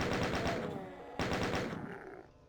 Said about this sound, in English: take out your chain gun, because there's a chain gunner and some imps